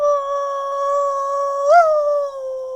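A narrator imitates a wolf's howl with his voice: one long sustained wavering note that swells and bends upward near the end before settling, close and fairly loud, with no other sound.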